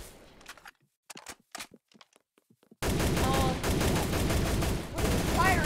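Dense sustained gunfire in a video game firefight, loud bursts and rapid volleys filling the second half after a quieter stretch of scattered footsteps and small sounds.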